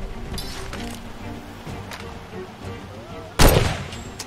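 Gunfire in the Far Cry 2 video game, with scattered faint shots and then one loud sharp blast near the end, while someone talks over it.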